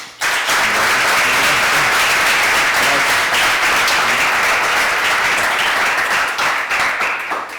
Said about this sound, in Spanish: le agradezcamos al Padre con un fuerte aplauso